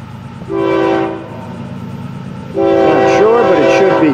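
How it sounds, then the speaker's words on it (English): An FEC freight train's horn sounds a short blast, then a longer, louder one over the rumble and rolling clatter of the train arriving nearby at Fort Pierce Yard. "this train, FEC's 103, to make their way into Fort Pierce Yard right now"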